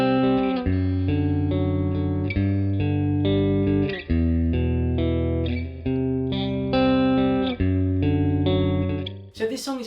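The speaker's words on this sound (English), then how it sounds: "So our first guitar part is going to sound like this." An electric guitar runs through distortion and effects, playing sustained power chords in a steady sequence of changes, loud and alone, ending in a short noisy burst.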